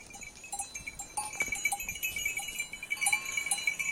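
Saanen goats grazing outdoors near a village olive grove, with scattered bell clinks and faint animal sounds at a distance, quiet rural ambience with no talk.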